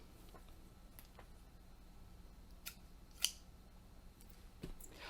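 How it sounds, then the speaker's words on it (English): Scissors handled in a quiet room during a children's read-aloud, giving a few faint, sparse snips and clicks against low background hiss, with one sharper click standing out. "Scissors."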